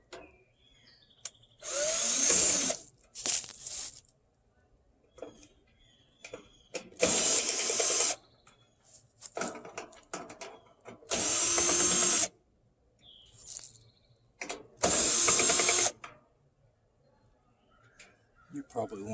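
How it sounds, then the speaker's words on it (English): A yellow Black & Decker drill drives a 5/16 nut on an air conditioner fan motor in four loud whirring bursts of a second or so each, separated by quiet gaps with light clinks and some talk. "doesn't he have a better drill than a Black & Decker?"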